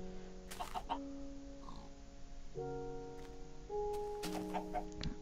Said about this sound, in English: this entire area is gonna be flooded with chickens